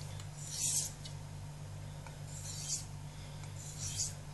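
A knife blade swiped across a large Nakayama natural sharpening stone of the harder type, giving three soft, light rasping strokes about two seconds apart over a steady low hum.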